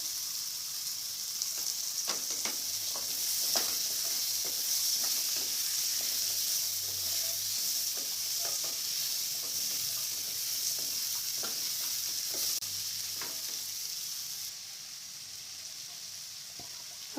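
Potatoes and carrots frying in a pan for a Gujarati mixed vegetable curry, a steady close sizzle with scattered crackles and light stirring scrapes running throughout, no voices.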